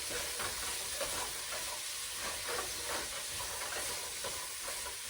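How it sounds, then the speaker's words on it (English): Chicken and rice soup with bok choy gets a quick stir in the pot, a dense, steady hiss of simmering and steam masking soft utensil swishes throughout. "Give it a quick stir."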